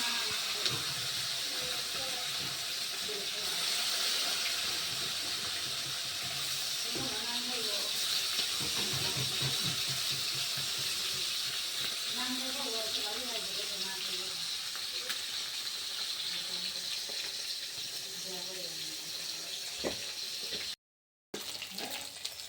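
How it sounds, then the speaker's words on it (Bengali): Fish frying in a hot karahi gives a continuous hissing sizzle at moderate volume, with a voice speaking over it at times and a brief gap near the end. "মাছটা ভাজা করে নেব"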